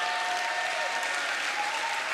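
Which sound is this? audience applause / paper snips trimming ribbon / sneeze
audience applause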